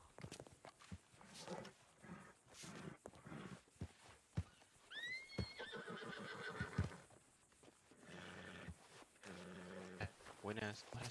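A horse neighs and whinnies in a western ranch roleplay video game, a short rising whinny midway through, alongside clip-clop hoof sounds and ambient game noise, with people talking throughout.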